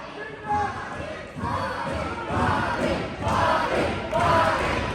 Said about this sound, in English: This wonderful crowd in Breeze, Illinois, putting their support firmly behind Bobby D.